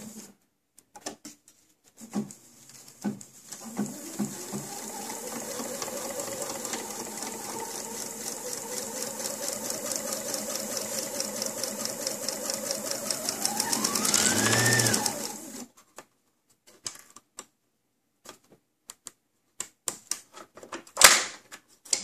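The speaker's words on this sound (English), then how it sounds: "I'm going to do the straight stitch first, then the zigzag" A sewing machine stitches, first straight and then zigzag, while making a plastic bag dispenser. After a few clicks it runs in one continuous, close, whirring hum for about twelve seconds, then stops, followed by scattered handling clicks.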